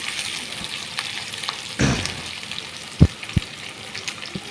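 Food fries in a pan with a steady sizzle while being stirred, with a scrape around the two-second mark and a few sharp knocks of the utensil against the pan after three seconds.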